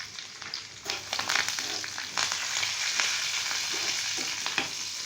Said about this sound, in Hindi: अब हम इसमें कड़ी पत्ता डालेंगे, साथ ही ये ज़ीरा और लाल मिर्चें डाल देंगे।